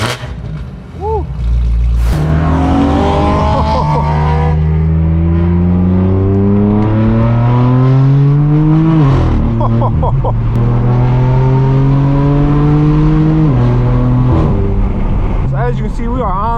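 A straight-piped BMW M4 F82 exhaust roars loud and close, revving up through rising pitch and then dropping sharply on downshifts with crackles, while people speak over it from inside the car on the road.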